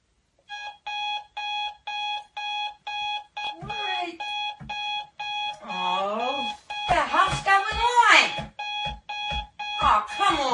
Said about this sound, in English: Alarm clock prank.